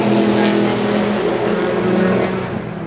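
Race cars roaring at an IMSA race at Watkins Glen International, a loud, dense engine drone that holds steady and then eases slightly toward the end, with no voices.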